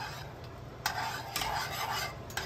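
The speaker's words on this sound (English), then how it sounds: "Let's give that a nice little whisk." A whisk works through hot honey butter wing sauce in a pot, producing quiet scraping and swishing strokes with a few sharper clinks against the side.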